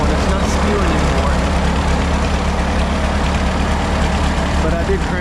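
A 1951 Cletrac Oliver HG42 crawler dozer engine runs at a steady idle, a loud, close, low rumbling drone throughout, with a voice talking over it.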